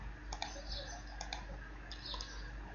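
Computer mouse clicks tap out in small pairs at close range while working in structural analysis software, faint against a steady low background hum.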